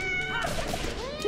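A cat in the video game Curse of the Sea Rats gives a gruff, drawn-out meow over a layered game soundtrack, short and fairly close with no talking.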